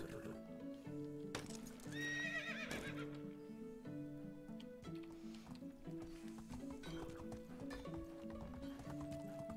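A horse in the medieval survival game Medieval Dynasty whinnies loudly near the start, then its hooves clip-clop in a steady, even rhythm throughout, with faint game music underneath.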